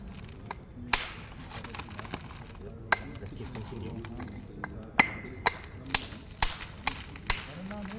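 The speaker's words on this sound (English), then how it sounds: "the antler hammer is kind of reducing its cover, like peeling out, like this, which is very good for making a biface" An antler hammer strikes stone while knapping a bifacial tool: a string of sharp, clinking taps, sparse at first and then quicker and more regular near the end, close by, with a person talking between strikes.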